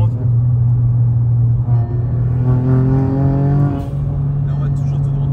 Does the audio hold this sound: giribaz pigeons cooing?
no